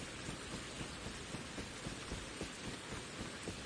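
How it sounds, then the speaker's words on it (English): Rain falls steadily in a video game, a continuous close hiss with faint soft thuds scattered through it and no voices. "Now that it's raining"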